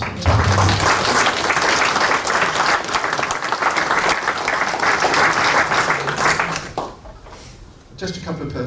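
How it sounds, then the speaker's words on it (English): Audience at a diabetes community event breaks into sustained applause, dense clapping from a large crowd lasting several seconds before fading as a speaker resumes. "Let's have a round of applause for type 1."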